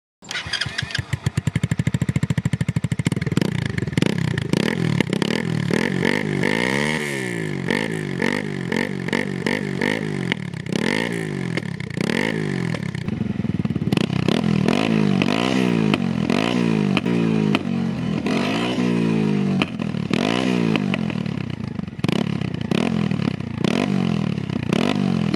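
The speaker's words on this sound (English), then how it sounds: "we'll finally get to find out what this new exhaust system sounds" A Honda Grom motorcycle with a 402 Innovations carbon fiber exhaust starts up and rides off, its engine revving repeatedly through gears with a loud, raspy exhaust, rising and falling for a long stretch.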